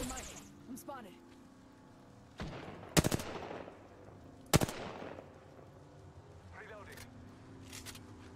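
Gunfire in Apex Legends, a couple of loud bursts of shots a second or so apart, with other game sounds and voices around them.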